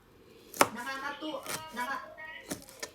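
Ginger being pounded and crushed while cooking, heard as a few sharp, separate thuds under voices talking nearby.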